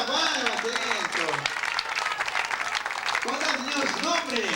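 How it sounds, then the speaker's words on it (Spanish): Applause from an event audience in Peru, a steady dense wash of clapping throughout, with a voice calling out over it near the start and again toward the end. "¡Aplausos para el señor por la palma, atento!"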